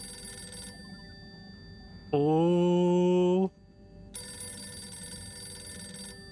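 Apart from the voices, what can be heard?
telephone ringing in the video game Harold Halibut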